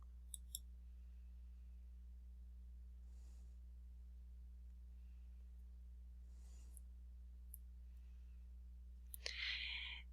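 Mouse clicks on a web page button land as a few sharp, quiet taps, a quick pair near the start and a final cluster near the end, set against a steady low electrical hum in an otherwise still room.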